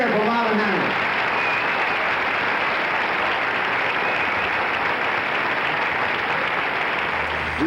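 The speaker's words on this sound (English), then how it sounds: "Can you hear the applause here in Las Vegas?" A Las Vegas telethon audience applauds for Marvin Hamlisch, a thick continuous wash of clapping that holds at an even, loud level from start to finish.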